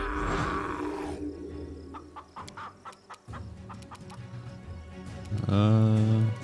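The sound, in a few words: chickens clucking in Pathfinder: Kingmaker video game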